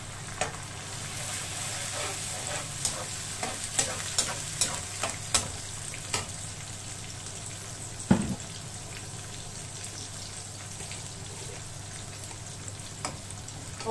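Garlic ginger paste frying with masala in a pot for mutton pulao, a steady loud sizzle with scattered stirring scrapes and taps, one sharp clank near the end, with no talking.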